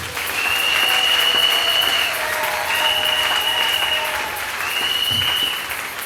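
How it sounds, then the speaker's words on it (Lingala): A church congregation at a Sunday worship service in Mont Ngafula claps in sustained, even applause that fills the room for several seconds, with faint voices mixed in. "Est-ce que vous pouvez acclamer pour vous-même là?"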